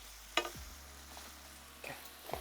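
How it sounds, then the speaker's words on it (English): Onions hit a pan of browning pork for ginger pork, giving a soft, low sizzle with a few clattering stirs and utensil knocks at intervals, quiet and close with no talk. "Okay, now adding onions."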